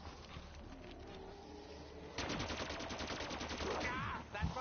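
Rapid bursts of automatic gunfire from a zombie-shooting video game, a dense rattling volley that starts partway through and runs for about two seconds over a low background.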